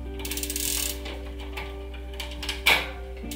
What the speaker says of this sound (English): Now we need to loosen the lower limit screw, which is that one, that inside screw.